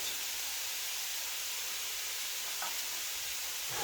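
Bean sprouts with fish sauce and salt being mixed in a hot pan, a steady close sizzle and hiss with faint stirring scrapes and no talking.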